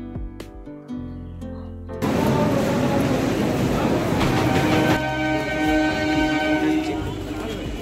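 A train rumbles along the line toward Sealdah station in Kolkata on Indian Railways, loud and close, with sustained horn tones sounding over the steady running noise.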